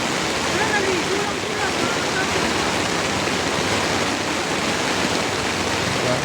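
Flood water rushes steadily along a street in Valenzuela City, a constant loud broadband wash with no breaks, with faint voices under it.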